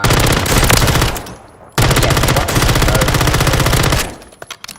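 A submachine gun fires loud, continuous automatic bursts in the Warzone firing range, with a brief pause between long sustained volleys and a few trailing single shots at the end.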